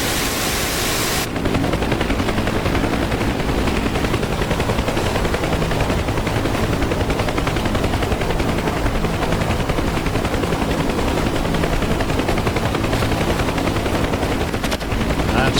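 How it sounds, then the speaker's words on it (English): A big gun firing in the DCS combat flight simulator, in a continuous dense roar of rapid fire that lasts the whole stretch, heavy and loud, mixed with aircraft noise. "That's a big gun."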